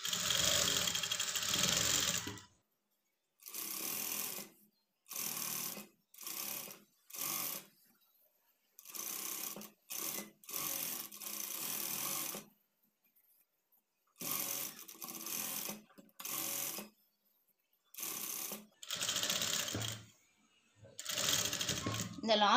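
A sewing machine stitches a blouse lining in repeated loud, close bursts of rapid whirring, separated by short silent pauses.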